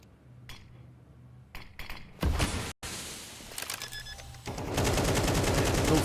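AK rifle fire in an esports video game match: loud, sharp bursts of automatic gunshots with short gaps between them, ending in a sustained close volley.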